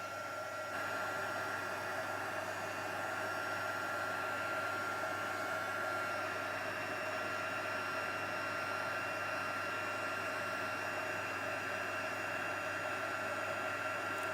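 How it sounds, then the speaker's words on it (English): A heat tool blows steadily while melting material, a constant low, airy hiss and whir like a hair dryer, faint and unbroken for the whole stretch with no voices. "So we're just heating this up until it melts. It really doesn't take too long once the heat tool's at a great temperature."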